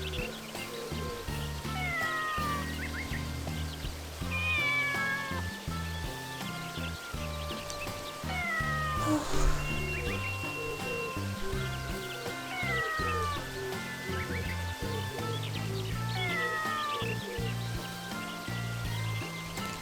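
In a feudal rice farming video game, a cat meows repeatedly with drawn-out calls against a soft, rain-like background patter.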